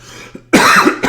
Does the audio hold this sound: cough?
yes